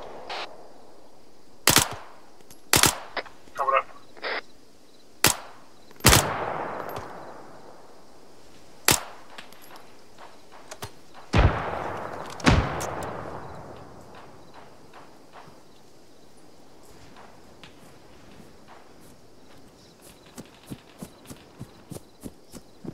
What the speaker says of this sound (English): We've still got Taliban to our west shooting at us.